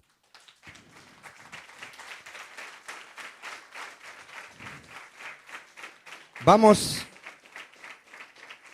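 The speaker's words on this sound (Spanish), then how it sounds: "Dan un aplauso al Señor." A church congregation applauding, sustained rhythmic clapping from a crowd at moderate distance, with a brief loud voice breaking in near the end.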